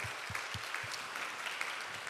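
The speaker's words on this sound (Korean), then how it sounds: "우리 하나님께 영광의 박수 올려드리겠습니다" A church congregation at a revival service applauds together, a steady wash of many hands clapping at a sustained level for about two seconds with no talking.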